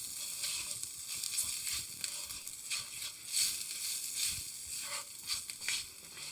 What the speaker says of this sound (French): Maintenant, on mélange et ça va être assez épais.